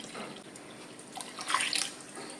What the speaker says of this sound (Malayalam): ചെറിയ തീയെ വെച്ചുകൊണ്ട് തേങ്ങാപ്പാൽ ഒഴിക്കുക